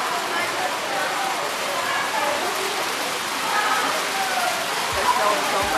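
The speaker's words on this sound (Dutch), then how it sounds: "En nu dus weer hagel." Hail falls steadily at an outdoor amusement park, a dense, even patter across the whole stretch with no break.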